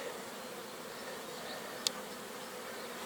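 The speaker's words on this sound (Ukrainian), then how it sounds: "нагріває стінки вулика, бджолки відпочивають, гріються" Honeybees resting and warming inside a heated hive give off a faint, steady, low hum, with one brief sharp click partway through.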